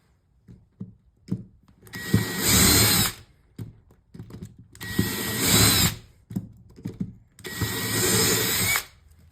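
A power drill opens a hole to 3/16 inch in three separate loud bursts, each a couple of seconds long, with quieter handling noises in the pauses between them.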